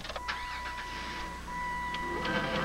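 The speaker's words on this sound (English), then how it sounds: "Start your car" Car engine starting: a short whirring crank with clicks, then the engine catches and settles into a steady idle hum, close and moderately loud.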